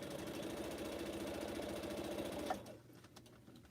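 A sewing machine stitches pineapple quilt blocks at a quarter-inch seam, running in a steady, close mechanical whir for about two and a half seconds before stopping abruptly, leaving a quiet room.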